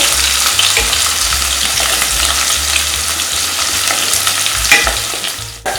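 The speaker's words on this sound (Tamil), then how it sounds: "வெங்காயம் கொஞ்சம் ஃப்ரை ஆகட்டும், கோல்டன் கலரில் கொஞ்சம் வரட்டும்" Onions sizzle and crackle steadily in hot oil for vadai, a close, continuous frying hiss with a brief clink near the end and no voices.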